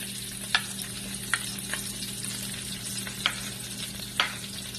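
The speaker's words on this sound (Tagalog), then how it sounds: "Ngayon, kakitchen, magigisa na tayo. Ito yung bawang natin" Garlic sautés in a pan for a Filipino-style spaghetti sauce, with a steady broadband sizzle and a few sharp clicks of a utensil against the pan at intervals.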